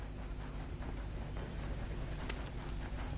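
Steady clip-clop of horse hooves in the video game Red Dead Redemption 2 over a dense noisy background, continuous and fairly even in rhythm.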